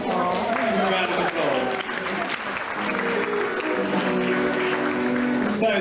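An audience claps steadily in a loud, continuous burst of applause at a game-show round, with voices audible over the clapping.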